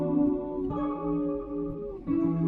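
Guitar recording pitch-shifted back up 900 cents and EQ'd to strip high strumming, with slight added distortion; sustained, warbly chords shift pitch in blocks, sounding processed and chorus-like, with no voices.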